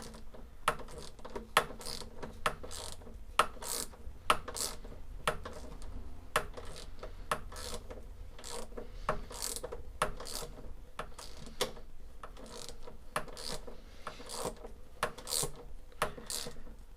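Handlebar bolts on a 49cc pocket bike are tightened with a hand tool, producing close, irregular metallic ratcheting clicks and taps over a quiet background, with no talk.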